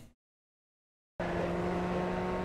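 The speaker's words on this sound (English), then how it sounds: "And it's just full throttle through here." A Formula Ford FF1600 at full throttle on the Zolder circuit in iRacing: after a short cut and a second of silence, a steady, loud engine drone with a sustained tone sets in and holds.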